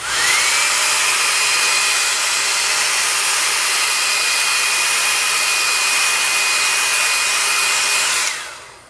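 A heat gun warms a vinyl skin wrap on a gun, a loud, steady airy roar with a thin whine running through it, holding level for about eight seconds before cutting off abruptly at the end.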